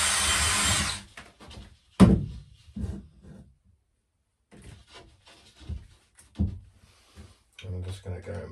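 A power drill fitted with a countersink bit bores into wood while lining the upper walls of a narrowboat. One loud, close whir lasts about a second, followed by quieter knocks and handling sounds.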